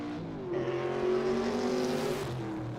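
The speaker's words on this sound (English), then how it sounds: "What's better than a Corvette with side pipes?" A Corvette with side pipes accelerating at a hill-climb event, its engine note rising as a strong, steady drone before easing off near the end.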